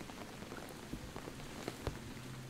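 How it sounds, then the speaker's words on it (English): Rain falling in the horror game Uninvited Guest, a steady faint patter of drops on surfaces with a few slightly louder individual splashes, continuous and alone with no talking. "it looks like rain"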